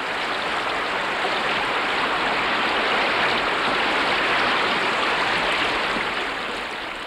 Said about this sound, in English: Giving way, the dam unleashes a torrential flood, summoning the beavers from their lodge.